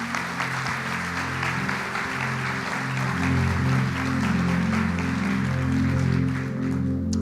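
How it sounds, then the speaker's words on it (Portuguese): Church congregation applauding during a worship service, steady dense clapping mixed with sustained musical tones from instruments underneath, growing slightly louder midway. "Você pode dar um aplauso a Ele?"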